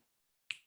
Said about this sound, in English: I'm snapping my fingers so that you could hear it